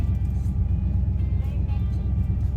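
A 1980 Chevy C10 squarebody pickup idles and rolls slowly into a driveway. Its engine gives a steady, loud, low rumble heard from inside the cab, with faint road noise.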